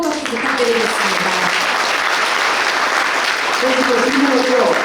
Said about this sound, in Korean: 이강덕 포항시장님께 다시 한번 뜨거운 박수 부탁드리겠습니다.